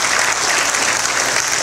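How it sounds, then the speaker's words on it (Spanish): A church congregation applauding, a dense, loud and steady clatter of many hands clapping together with no break and no voices rising above it. "apláudele al Señor si quiere aplaudirle"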